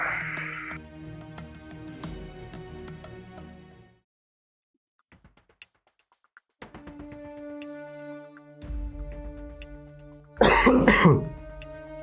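A person coughs and clears their throat in a scene from a Gujarati short film drama, a short loud rough burst near the end that follows quieter stretches of tonal background sound.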